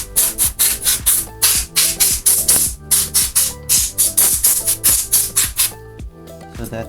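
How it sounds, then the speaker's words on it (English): A compressed air duster sprays into an open Dell Inspiron 13 5000 series laptop in a fast run of short, sharp hissing bursts, close and loud, with no speech. "And spray some of the compressed air."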